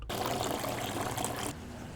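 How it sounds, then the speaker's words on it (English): Water runs and splashes steadily from a backyard waterfall fountain, a continuous close trickling wash with no voices. "This waterfall fountain was installed in the backyard."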